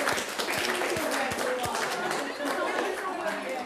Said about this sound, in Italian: Fatevi un applauso, glielo faranno anche gli avversari.